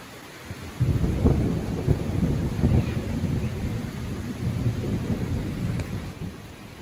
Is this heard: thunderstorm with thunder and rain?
yes